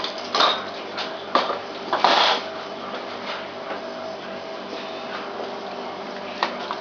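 A ladle and bowl handled while chicken soup is served, with several clinks and knocks of utensils against dishes, fairly close, separated by quieter stretches.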